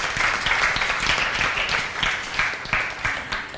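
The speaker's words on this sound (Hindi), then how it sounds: "हाँ, सब थोड़ा सा ताली बजाएंगे।" An audience claps at a gathering, with steady, fairly loud applause and a few individual claps standing out throughout.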